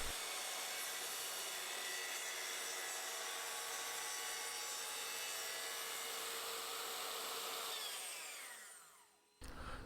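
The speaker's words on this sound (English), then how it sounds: "I did take a smidge off with the track saw to get the nice reveal that I was after" A track saw trims a smidge off the edge of a wooden frame-and-panel cabinet door, a steady loud whining cut that runs for about eight seconds, then winds down and stops.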